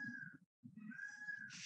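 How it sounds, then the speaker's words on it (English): A domestic cat meows twice in the background of an indoor meeting room, each call a drawn-out, fairly clear cry with a short pause between, followed by a brief hiss-like burst at the end. "Somebody's cat."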